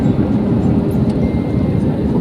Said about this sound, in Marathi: आता विमान आमचं खाली उतरते